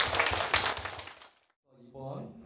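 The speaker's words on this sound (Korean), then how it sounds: "다시 한번 큰 박수 부탁드립니다" Applause from the audience at the opening ceremony of a Korean folk song competition final, a dense burst of clapping that fades out, followed by a voice speaking.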